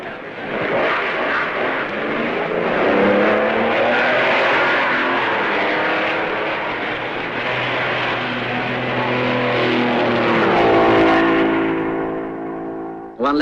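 A 1955 Maserati Grand Prix racing car at Spa pulls away from the pits with plug trouble, its engine loud and raspy as it revs through rising and falling pitch, then a gear change near the end.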